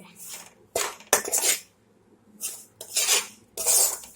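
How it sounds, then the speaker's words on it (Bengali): Gram flour and ghee are worked in a pan with a spoon, giving several separate bursts of scraping and clinking divided by short silences, close and moderately loud. "এখন বেসন আর ঘিটাকে ভেজে নিব।"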